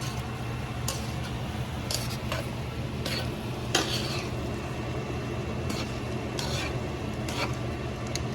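Spoon stirring a pot of simmering pasta sauce, with soft scraping and clinks recurring every second or so over a steady low bubbling hum, close by and fairly quiet.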